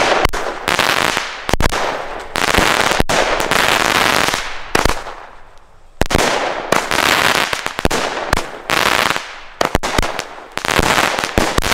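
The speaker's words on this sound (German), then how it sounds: "wir sehen uns gleich draußen zur Zündung der Alba Dreierfächer Batterie, sag ich jetzt mal, von Aeon" Aeon Alba three-shot fan firework battery fired outdoors, producing loud, sharp launch bangs and crackling bursts in rapid irregular succession, with a brief lull before a second dense volley.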